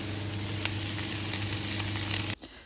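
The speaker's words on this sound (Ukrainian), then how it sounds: "Неможливо слухати це шкварчання" Garlic, onion and yellow bell pepper sizzle steadily in a frying pan, a dense continuous crackle held close and loud at even level, then cut off abruptly near the end.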